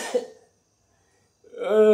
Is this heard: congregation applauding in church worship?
no